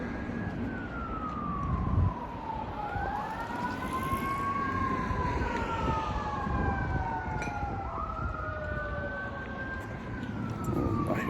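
Distant emergency vehicle sirens wail across an outdoor walk, several overlapping rising and falling tones sweeping steadily over a constant background rumble of traffic and wind, without speech.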